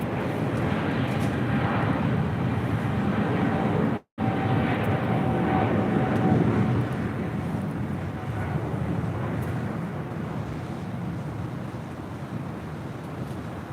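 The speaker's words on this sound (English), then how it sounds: "This is Philippine Airlines Flight 113 departing to Manila on a 777-300ER" A Philippine Airlines Boeing 777-300ER departs for Manila, its jet roar a broad, steady wash with wind buffeting the microphone, briefly cut out once.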